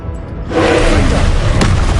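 A Confringo fire spell explodes in Hogwarts Legacy on PS5, a single loud boom that bursts in after a brief quiet moment and then rumbles on as a dense, sustained roar.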